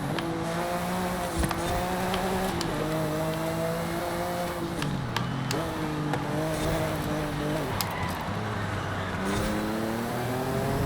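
A 1992 Ferrari 512 TR tuned for rear-wheel-drive grip in a racing game screams loudly and continuously, its engine pitch climbing through gears and dropping at each shift over about eleven seconds.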